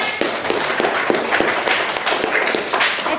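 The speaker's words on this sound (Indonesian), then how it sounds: "Ya, bagus sekali, tepuk tangan." A classroom of pupils claps together in a quick, fairly even rhythm, a short close burst of applause filling the room.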